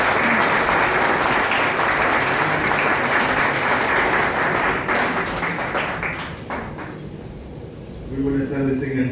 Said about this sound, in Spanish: Lo recibimos con el aplauso que se merece